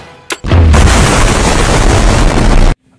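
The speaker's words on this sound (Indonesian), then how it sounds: "mereka langsung meledakkan area pintu masuk" A sudden, very loud explosion blows up an entrance, erupting into a sustained roaring blast for about two seconds before cutting off abruptly.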